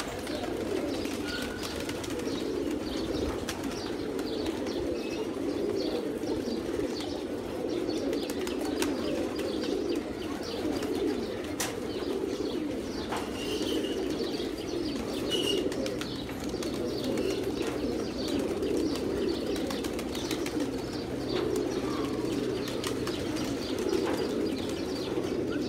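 Older pigeons kept under a tin roof coo in a thick, steady chorus that runs without pause, close and fairly loud, with faint scattered chirps and no talking.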